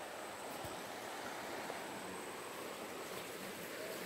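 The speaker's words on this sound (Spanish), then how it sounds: "Por ahí pasa el río." Water in a river runs in a steady, soft wash of broadband noise, heard from some distance and fairly faint, with no voices over it.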